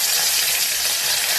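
Curry leaves frying in hot coconut oil for a Kerala-style pork curry, a steady, loud, close hiss and sizzle with no pauses.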